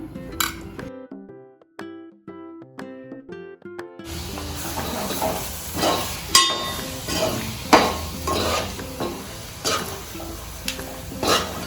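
Chicken biryani fries in a pot on a stove. After a quiet opening with sparse tonal plinks, a loud close sizzle sets in, broken by sharp clinks and scrapes of stirring.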